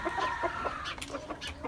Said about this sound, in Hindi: मुर्गी जो ब्लैक वाली है और सिल्वर स्प्राइट और दूसरे वाइट वाले फैंसी